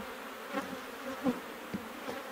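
Honey bees buzzing around an open hive during a frame inspection, a low steady hum with a few brief louder passes of individual bees close by, no talking.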